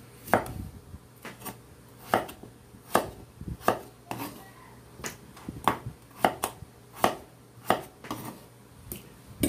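Potatoes are chopped on a cutting board in a slow, steady rhythm of about a dozen crisp knife strikes spaced under a second apart, close and clear over a quiet room hum.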